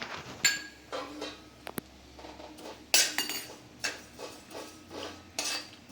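Sesame seeds roasting in a pan for ragi laddu, giving scattered light crackles and taps with metallic clinks of a spoon or spatula against the pan, fairly quiet with brief gaps between bursts.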